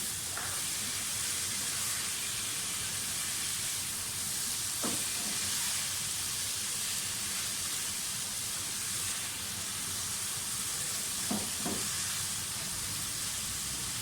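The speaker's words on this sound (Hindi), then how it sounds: "साथ ही टमाटर भी डाल दें, इनको भी थोड़ा सा भूनें" Tomatoes sautéing in a pan with soy sauce for chicken macaroni, making a steady, even sizzle with a few faint stirring clicks throughout, no voices.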